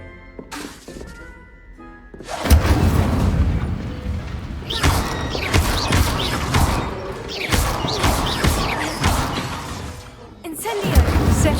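Incendio fire spells cast in Hogwarts Legacy burst out in loud, crackling whooshes and crashes, several blasts in succession after a quieter opening, with occasional spoken voices in the game's mix.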